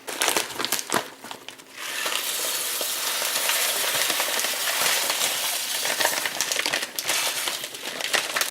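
Plastic bag of rice crinkles and rustles loudly up close, with dense crackling handling noise, followed by rice grains pouring and rattling out of it.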